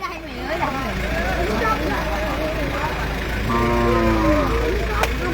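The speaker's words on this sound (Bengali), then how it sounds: "অনেকগুলো গরু এসেছে একটা গাড়িতে, অনেক বড়।" Large cattle mooing at a livestock market as cows arrive by truck, several low calls rising over constant crowd chatter and traffic hum, with a longer clear moo near the end.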